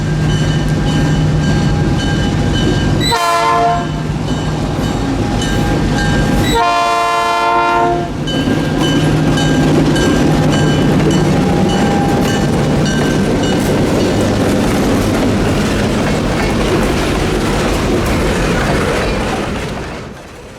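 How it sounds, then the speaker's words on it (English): Florida Midland Railroad CF7 locomotives haul a train toward Lake Wales Junction, a loud steady diesel roar with two long blasts of the chime horn early on, then the engines keep rumbling close by as the train passes. "With their train made up, the entire Florida Midland roster heads east for Lake Wales Junction."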